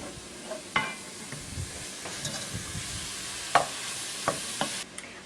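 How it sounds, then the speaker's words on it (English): Onion, jalapeno and minced garlic sauté in a pan for a clam chowder, giving a steady low sizzle broken by a few sharp scraping stir clicks, close and fairly quiet with no talking. "I'm adding my minced garlic. And we're going to saute this until the onion is translucent."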